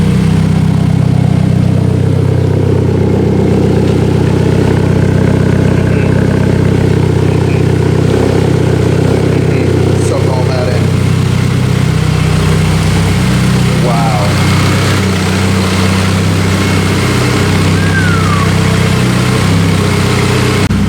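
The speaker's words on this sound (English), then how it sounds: "Really steady idle. It's not vibrating the car too much" A turbocharged Honda K24 engine in a rear-wheel-drive car idles right after its first start. It gives a loud, steady low rumble that holds even and unbroken the whole time.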